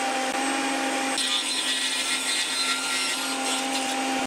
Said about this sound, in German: Und das schneide ich mir jetzt mal, ich würde sagen, auf 12 mm von hinten gesehen ab.